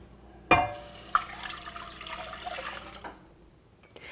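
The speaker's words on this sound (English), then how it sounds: "Roux is nice and bubbly, so I'm going to add 2½ cups of water." Water poured into a bubbling roux in a pot for a creamy cauliflower soup, starting with a sharp splash and hiss, then a steady sizzling, rushing flow that fades out after about three seconds.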